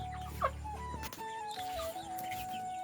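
A rooster gives a short, faint cluck against a quiet background with a low steady hum.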